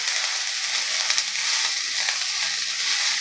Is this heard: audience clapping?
no